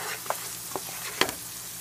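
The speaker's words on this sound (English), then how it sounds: "I want to make sure these other spices are really cooked very well" Spices frying in a pan for chicken biryani, a steady soft sizzle under a few sharp stirring scrapes and clicks, close by with no talk.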